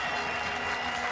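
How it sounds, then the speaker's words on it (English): Steady, dense applause from teammates and the crowd at a Pakistan versus Ireland one-day international cricket match, greeting a batsman's century, continuous and fairly loud throughout. "His teammates stand to applaud him."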